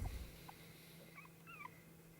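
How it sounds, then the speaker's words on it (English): A dog in the Rule of Rose horror video game gives a few faint, high whimpers and short whines against a quiet background hum, after a brief low thud at the start. "She heard a dog's bark."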